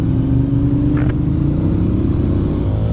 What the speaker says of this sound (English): We are riding motorcycles.